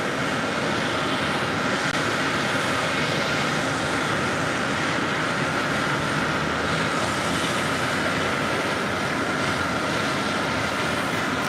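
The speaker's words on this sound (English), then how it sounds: "And another British Airways 777-300ER, now short funnel for 4 right" British Airways Boeing 777-300ER landing on runway 4 right at JFK, a loud sustained jet roar that stays even from start to finish, with no talking.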